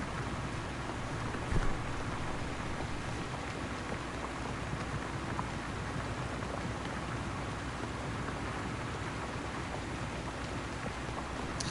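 Rain in the video game Farming Simulator 19 falls as a steady, moderate hiss that runs unbroken throughout, with one brief knock near the start and no talking.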